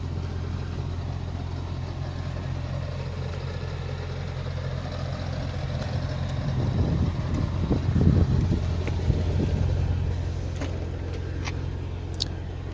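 A 2004 Mercedes SL55 AMG engine runs with a steady low rumble, swelling briefly louder in the middle before settling back, heard close with some wind noise.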